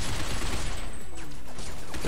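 Bursts of sniper and rifle gunfire crack through a futuristic battle in the shooter game Binary Domain, a dense volley of shots rattling close and loud over a busy combat backdrop.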